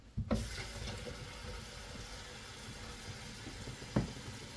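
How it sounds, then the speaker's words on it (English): Tap water running steadily into the raw water tank of a countertop RO purifier, a continuous hissing pour with a couple of soft knocks at the start and near the end. "Okay, so I'm filling up the raw tank with water."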